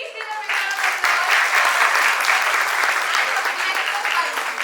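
A room of people at a talk for startups claps in thick, even applause that swells after a brief softer start and stays loud and sustained, with no voices over it.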